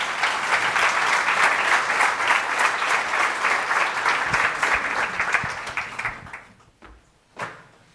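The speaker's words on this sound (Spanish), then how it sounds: "Recibamos con un fuerte aplauso a Jorge Lara Restrepo." A conversation event on peace, forgiveness and reconciliation erupts in strong audience applause to welcome a speaker. Dense, loud clapping holds for about six seconds, then fades out quickly, followed by a single sharp knock.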